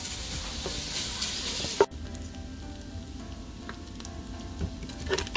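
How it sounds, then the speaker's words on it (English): Bacon browning in a pan for sausage and kale soup gives a steady broadband sizzle, with a sharp clatter partway through and then a quieter, continuing fry with a few small pops; no voices. "So we're gonna go ahead and brown the bacon."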